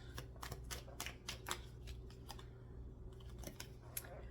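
Tarot cards are shuffled in a quick run of crisp, close flicks and riffles, soft overall, with short pauses between bursts over a low background hum.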